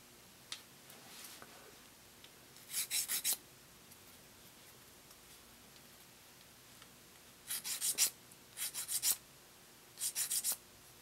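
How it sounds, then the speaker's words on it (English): A sanding stick rubs nubs off a plastic Gunpla model part in short, close bursts of quick scratchy strokes, grouped in threes and fours with quiet pauses between them. "after each couple rubs with the sanding stick, I'm checking it"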